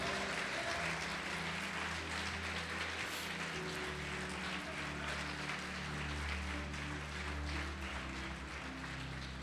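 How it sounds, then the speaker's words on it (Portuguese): A church congregation applauds during a sermon, a steady wash of clapping that sounds loud and close, with a sustained low organ or keyboard drone underneath throughout. "Pode aplaudir"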